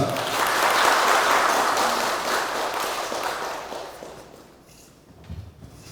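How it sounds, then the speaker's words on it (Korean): An audience at an 80th anniversary commemoration ceremony for the Bumingwan bombing in Seoul gives a loud round of applause that swells, then fades to scattered claps and shuffling. "큰 박수 부탁드립니다"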